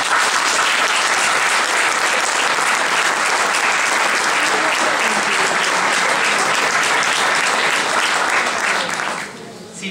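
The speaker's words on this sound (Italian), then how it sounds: "qui ci vuole chiaramente un applauso che non è di forma ma è veramente fatto con tutto il cuore" Dense, loud applause from an audience greets a theatre company at a wedding celebration, a continuous wash of clapping that holds steady for nearly ten seconds before dropping off at the end.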